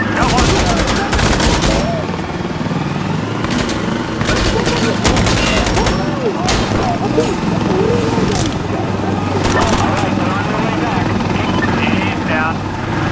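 Heavy, dense gunfire rattles almost nonstop in the shooter game Insurgency Sandstorm. Loud bursts and single shots overlap with a helicopter-like drone beneath, and a voice speaks briefly over the din.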